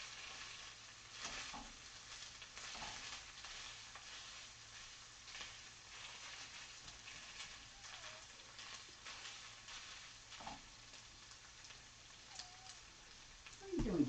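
Food stirred and frying in a normal frying pan, a steady soft sizzle with occasional scraping stirs, fairly quiet and continuous throughout, with a brief louder clatter at the end.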